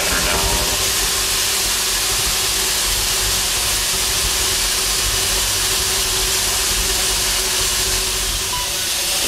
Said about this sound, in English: He's now got their new steam engine here that they're getting ready. They're test firing it today